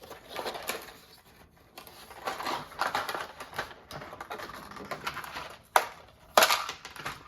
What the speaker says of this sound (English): Let's take the tape off here.